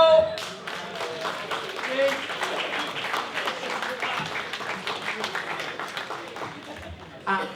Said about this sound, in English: Absolutely apathetic round of applause